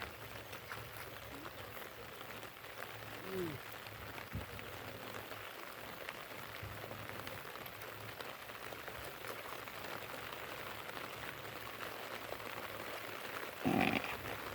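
Steady rain falling on a flooded rice paddy during traditional transplanting, a broad continuous hiss that grows heavier, with a brief louder splash or voice near the end.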